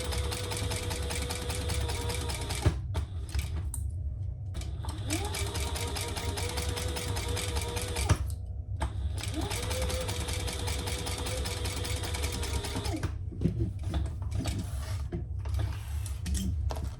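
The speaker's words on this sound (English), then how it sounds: "let's sew down each long side at the seam allowance in the pattern" A sewing machine stitches the long side seams of a bag, running in a few sustained bursts separated by brief pauses, close by over a steady low background hum.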